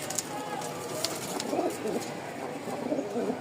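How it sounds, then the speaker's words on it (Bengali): Rajshahi Giribaz pigeons in a cage give soft, low cooing calls in short repeated bursts, fairly faint over a steady background hiss, with a few brief sharp ticks scattered through. "চলেন এবার ওদের খাঁচায় দিয়ে দেখায় যে আসলে ডাক কেমন দেখেন ডাকের সাউন্ডটা দেখেন"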